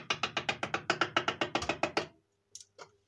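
A Jamieson's Gold Cup penny arcade horse-racing machine from around 1962 whirs through its mechanism as a fast, even run of about fifteen loud ratcheting clicks, stopping abruptly, followed by two faint mechanical clunks.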